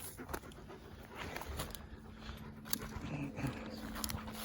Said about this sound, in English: Don't you, Logan? Good dog.